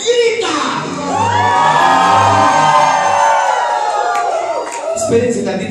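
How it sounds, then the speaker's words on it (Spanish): Circus audience at an evening show shouting, whooping and cheering loudly together, a dense sustained roar of many voices with high whoops on top, a brief dip near the end before it swells again. "Y la gente grita."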